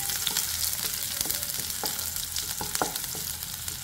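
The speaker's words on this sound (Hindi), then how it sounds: "तो लहसुन को एकदम हम ब्राउन कर लेंगे।" Crushed garlic frying in a spoonful of oil in a kadhai, a close, continuous sizzle and crackle with scattered sharp pops, steady in loudness and heard alone without talk.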